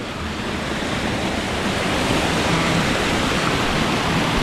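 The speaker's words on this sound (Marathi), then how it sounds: "ह्याच्यात बरोबर पाणी बघा कसं जात आहे" A large river rushes past in a continuous, dense roar, loud and steady throughout, with some wind noise mixed in and no voices.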